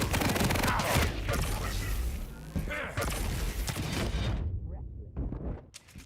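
Railgun shots and heavy weapon fire in a competitive match of the video game Quake, a dense loud barrage of blasts under a fast-talking commentator, fading near the end.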